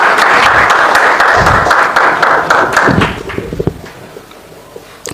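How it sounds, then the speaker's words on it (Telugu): A church congregation breaks into loud applause, many hands clapping together with thumps, then it thins to scattered claps and fades out. "చప్పట్లు కొట్టండి."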